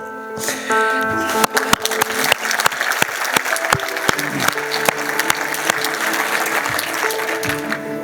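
An audience at a forum welcome session bursts into sustained applause, a dense wash of clapping from many hands that swells quickly and continues steadily, with a few sharper individual claps standing out.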